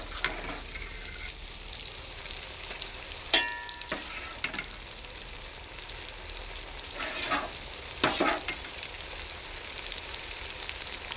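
Garlic, ginger, chilli, black pepper and cumin paste fries in a large kadai for a country chicken curry. The sizzle is soft and steady, broken by a few sharp clinks and scrapes of stirring.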